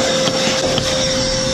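Electric turbo blower rated at 1.75 horsepower clearing dust, a loud, steady whine with a constant tonal hum running unbroken and close throughout.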